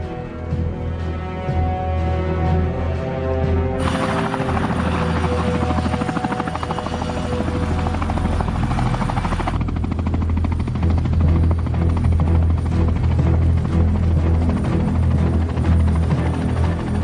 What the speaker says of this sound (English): You will circle the helicopter on top of the bank